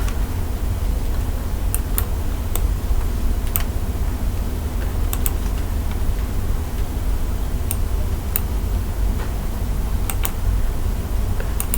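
Typing on a computer keyboard while working in AutoCAD, sparse soft key clicks scattered across a steady background hum, fairly quiet and with no talking.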